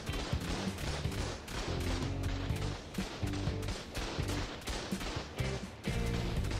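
Turrets firing during an Xbox raid in a video game, a rapid stream of close, punchy shots and thuds repeating with short gaps, dense and unbroken by speech.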